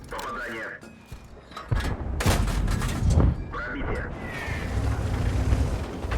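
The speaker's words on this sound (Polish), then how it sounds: "Kolejne strzały artylerii e, lecą gdzieś w stronę tego Churchilla" Artillery shots fired in the World of Tanks tank battle game, a burst of booming explosive reports, loud and layered over continuous battle noise, with a voice talking throughout.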